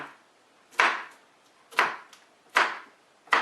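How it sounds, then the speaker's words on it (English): A knife chops peppers on a cutting board for chicken quesadillas, four sharp, evenly spaced thuds about one second apart, close and clear with nothing else heard. "All you're doing is chopping, chopping, chopping, and then make sure that they're small enough to go in."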